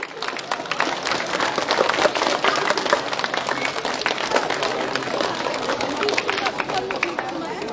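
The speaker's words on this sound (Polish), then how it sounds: "Wielkie, wielkie brawa!" A crowd at the opening of a 5-ponds road race claps steadily and densely for several seconds, with murmured voices mixed into the applause.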